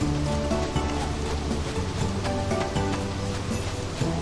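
Rain falling in the Harvest Moon Animal Parade video game, a steady soft hiss that runs through the whole moment, mixed with tonal background game sounds.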